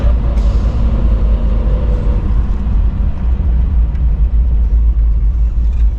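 A 1985 Toyota FJ60 Land Cruiser with an engine fault that makes it blow blue smoke, running as it drives down a road; a loud, steady, close engine rumble continues throughout with no talking.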